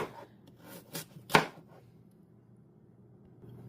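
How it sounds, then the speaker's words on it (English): Knife chopping raw carrots small on a cutting board, a few quiet close taps with one sharper cut standing out, then near silence. "just chop it nice and small"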